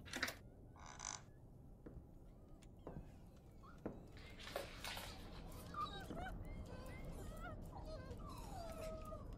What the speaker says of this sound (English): Are those dogs crying?